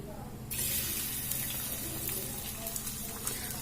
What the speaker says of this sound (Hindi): साग छौंके के लिए हम लहसुन ले लिया, मिर्च और ई जमाइन लीज।